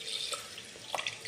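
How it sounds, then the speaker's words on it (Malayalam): Water with masala is poured from a pan into a pressure cooker, giving a faint, light trickling and splashing with a few small drips. "ഇത് ഞാനിനി കുക്കറിലേക്ക് ഒഴിക്കുകയാണ്."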